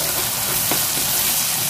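Ground spinach puree hits a hot, sizzling pan of oil with green chilli and garam masala, giving a steady loud hiss and crackle with a brief splash of wet sputtering.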